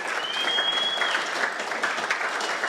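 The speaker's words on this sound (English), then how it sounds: "I think that's worth a round of applause." An office audience at an all-team company meeting breaks into steady, close applause, a dense patter of many hands clapping with no voices on top.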